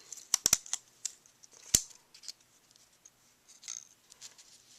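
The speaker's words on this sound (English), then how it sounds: "trim off those little ends there" Scissors trimming small paper ends for a handmade craft card: a quick cluster of crisp snips, then a single sharp cut and a few soft paper rustles, close and quiet, with no talking.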